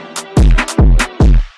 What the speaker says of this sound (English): It's just a basic gunshot.